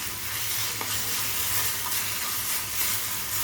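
Banana peel stirred into caramelized sugar in a pan gives a steady, close, dense sizzle and crackle that continues unbroken throughout, with no voices.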